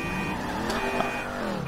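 Car alarm sounding in the Grand Theft Auto 5 video game, a steady electronic alarm tone under game background noise for a short stretch.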